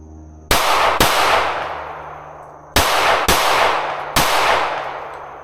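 A Staccato C2 pistol fires five sharp, loud shots at 3 yards during sight-picture drills, with two quick pairs and a single shot. Each crack rings out close by and decays into a long indoor-style reverberant tail.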